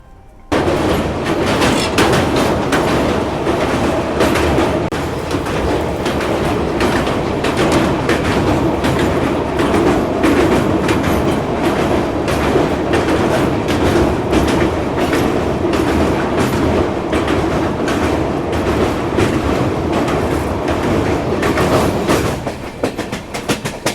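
The Delhi–Sairang Mizoram Rajdhani Express rolls along the rails at speed, a loud, continuous rumble with steady clickety-clack wheel beats throughout, heard from inside a first AC coach.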